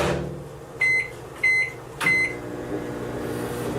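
A microwave oven set on high to melt chocolate chips gives three short electronic beeps, then keeps up a steady low hum, close by and moderately quiet, with no talking.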